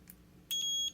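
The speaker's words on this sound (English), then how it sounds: "Set it to beep. Make sure it does beep." A multimeter in continuity mode sounds a steady high-pitched electronic beep, lasting about half a second after a faint click, close and clear.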